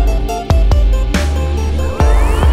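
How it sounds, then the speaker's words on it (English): A harpsichord with quill-plucked strings plays a steady run of bright, twangy notes, each sharp attack ringing briefly, loud and close with no talking. "The harpsichord is an instrument that is plucked by quills and sounds like this."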